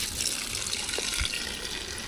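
Water pours steadily into plant pots outdoors, a continuous hissing, splashing flow at close range with no pauses over its short length.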